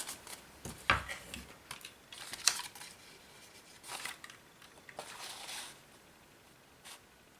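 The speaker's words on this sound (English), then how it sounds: "I line it up and punch it out again" A paper punch cuts a divider out of folded card in a few short crunching snips and rustles, quiet and close, with a handful of sharper clicks as the punch presses through.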